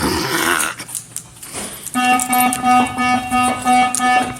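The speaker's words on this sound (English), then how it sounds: "I set the alarm off." A shop door security alarm starts beeping after a short stretch of quiet rustling, sounding in steady repeated pulses of a bright tone nearby.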